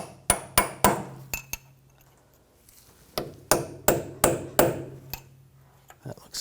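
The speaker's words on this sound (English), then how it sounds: "You can just take a chisel or a punch. Just try to hammer it out a little bit." Sharp metallic hammer strikes on a chisel or punch against the front axle nut of a BMW X5, a quick run of blows, a pause, then another series of ringing hits, close and loud.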